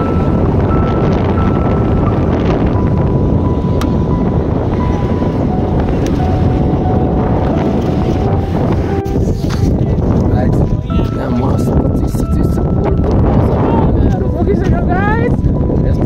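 Strong cold mountain wind buffets the microphone in a constant loud roar along a river route toward Muktinath, Mustang, with people talking intermittently under the gusts.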